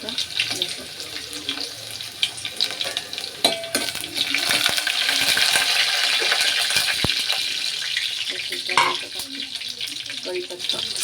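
Cumin and garlic frying in a home-kitchen pan give a sustained, watery hiss and sizzle, with scattered clatters and stirring knocks up close and brief bits of voice in the background.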